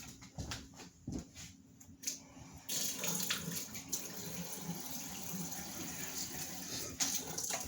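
Water pours steadily from a kitchen tap into a container while burgers are being prepared, a soft continuous rush that starts partway through and runs on alone.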